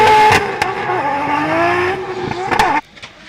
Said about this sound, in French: C'est énervé là pour la Subaru BRZ.